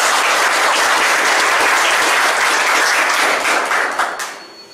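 An audience gives loud, dense applause at a police constable training session, sustained clapping that holds steady before tapering off near the end.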